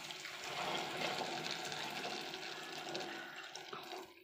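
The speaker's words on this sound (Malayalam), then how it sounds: "ഇനി ഇതിലേക്ക് വെള്ളം ചേർത്ത് കൊടുക്കാം." Hot water poured into a pot of chicken curry, a steady splashing pour that runs for about four seconds with no talk.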